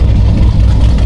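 A pickup truck engine at a Texas performance workshop runs with a loud, steady low rumble that continues without a break, with no voices over it.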